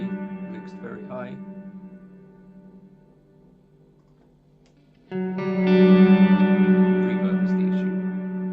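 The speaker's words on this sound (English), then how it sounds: "Crazy amount of delay, mixed very high." Electric guitar run through a Line 6 Helix on firmware 3.0 with an ambient delay mixed very high plus reverb: sustained notes smear into long echoing trails that fade, then a louder chord swells and rings out.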